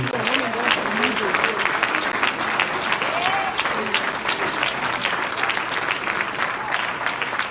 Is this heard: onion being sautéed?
no